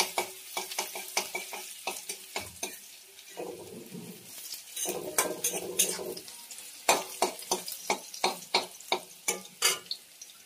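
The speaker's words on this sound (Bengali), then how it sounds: "এবার তেলের মধ্যে রসুনটা দিয়ে দেব।" Garlic frying in hot oil left from frying amudi fish for a Bengali fish jhal, giving a steady sizzling crackle broken by repeated sharp scraping and stirring clicks of a utensil in the pan, close and moderately loud, with no talk.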